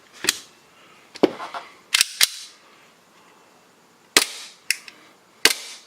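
A gas-powered Taran Tactical Glock replica pistol fires about six sharp, close cracks, some in quick pairs, separated by short pauses.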